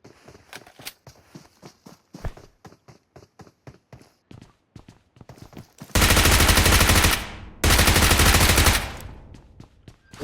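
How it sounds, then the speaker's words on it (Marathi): Rapid gunfire in the BGMI (Battlegrounds Mobile India) mobile battle royale game, with sharp repeated shotgun-style bursts close by, followed by two long, loud sustained blasts of noise. "वाटलं शॉर्ट गन फटका बसणार मला"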